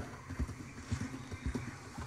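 A horse's hooves clip-clop at a steady walking rhythm in the Red Dead Redemption 2 video game, soft and fairly quiet, with no other sounds over them.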